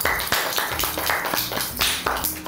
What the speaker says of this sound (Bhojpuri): जोरदार तालियां हो जाके चाहिए